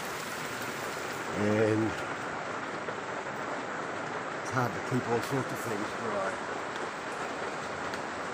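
Heavy tropical rain pours steadily around a boat under restoration, a dense constant hiss through the whole stretch while someone talks over it close by.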